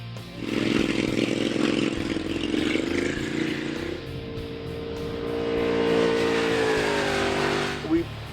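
A Ducati 1199 Panigale S motorcycle engine revs and pulls away loudly and close, its pitch climbing through gears, easing briefly and then rising again.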